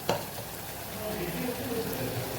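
Spice masala sautés in a pan for a Kathiyawadi-style mung bean curry, giving a soft, steady sizzle close by after a brief clink at the start.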